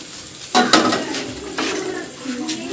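A spoon clinks against a dish or jar while about a spoonful of white cumin seeds is added during a home falsa pickle preparation, with a few sharp close taps and light rattles and a soft rustle of seeds between them.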